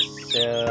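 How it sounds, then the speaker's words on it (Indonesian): Young chicks of Pacek Black F1 crossbred chickens give a couple of quick, high chirps close by. "ini suara anakan ayam hanya di awal-awal"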